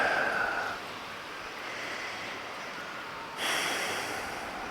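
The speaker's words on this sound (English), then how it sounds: "take a deep breath" A deep breath drawn in and let out, close and airy: a noisy inhale at the start, a quieter stretch, then a second strong breath near the end over faint room hiss.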